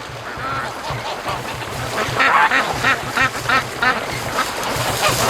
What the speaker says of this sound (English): Now Goosely has bigger lungs because he's much louder.